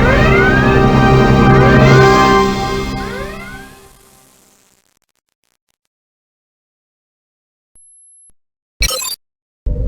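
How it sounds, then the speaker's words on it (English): Red alert klaxon in Star Trek: The Final Unity, a loud repeating whooping siren sweep that cycles several times close up, then fades into silence followed by brief electronic beeps. "Go to red alert."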